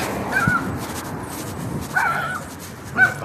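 Puppies give a few short, high yips and whimpers spaced about a second apart, moderately close and not very loud over a soft background.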